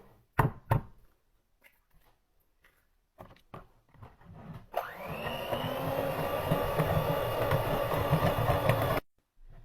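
Eggs are beaten one at a time into carrot cake batter: a few sharp knocks and taps, then a steady whirring beater that runs for several seconds before cutting off abruptly.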